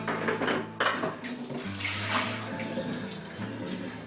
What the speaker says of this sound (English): Pour it into our bucket and give it a good old swish around